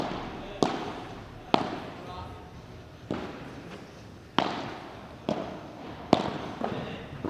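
Padel balls struck sharply during a tournament rally including a cross-court volley, with several crisp hits at irregular intervals echoing in an indoor court, over faint crowd and commentary.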